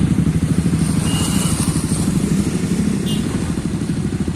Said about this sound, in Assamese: মোৰখনত লাহেকৈ ৰেপটো দি আছোঁ